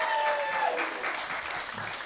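An audience gives a round of applause for a group of retired Caribbean nurses at a Windrush event, with sustained, even clapping from a crowd heard at moderate distance and a faint voice beneath.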